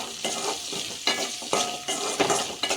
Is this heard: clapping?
no